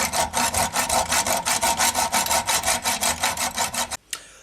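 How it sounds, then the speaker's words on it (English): A hacksaw cuts through old, long-fitted screws on a toilet cistern in steady rhythmic back-and-forth strokes, about twenty rasping passes close up, ending with a brief pause and a final scrape. "I'm going to have to hacksaw them off"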